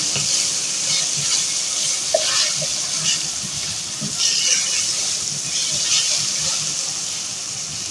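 Steady, loud sizzling and crackling of ginger garlic paste frying in a hot pan, with faint scraping from stirring running throughout.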